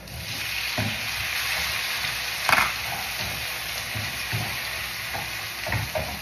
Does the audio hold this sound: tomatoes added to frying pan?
yes